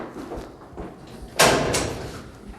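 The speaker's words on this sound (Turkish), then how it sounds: "Bizi boş ver sen kapıyı aç." A door opens with a sharp, loud latch clack followed by a brief rattle, preceded by quieter shuffling thuds, with no talk.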